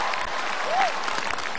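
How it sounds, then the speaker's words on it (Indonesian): Crowd applause from a stand-up comedy audience fills the whole stretch as steady broadband clapping with no pauses. "Tepuk tangan dulu dong untuk Pak Ahok."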